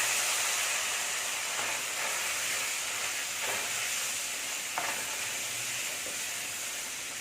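Chilli powder and turmeric sautéing in a pan while cooking drumstick kootu, a constant bright sizzle with a few faint stirring clicks, close and steady with no talk.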